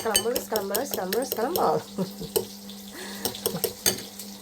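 Salted eggs scrambled in a frying pan with a little oil: close metallic scraping and clinking of a utensil against the pan over a soft sizzle, with a voice talking at the start.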